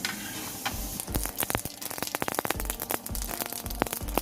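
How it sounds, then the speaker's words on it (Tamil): Mustard seeds and urad dal sizzle and crackle in hot groundnut oil in a pan. Irregular sharp pops and spatters sound close over a steady frying hiss, with no talking. "கடுகு வெடிச்சிருச்சு."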